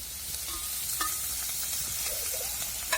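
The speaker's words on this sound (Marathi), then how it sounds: "तर मी आता तेल टाकणार आहे" Onion frying in hot oil in a kadhai, a steady close hiss of sizzling with a few faint clinks and scrapes over it, no talking.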